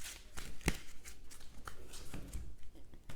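Tarot cards are shuffled and handled in quick, irregular riffles and flicks, with one sharp snap standing out, close and fairly quiet. Faint talk sits in the background.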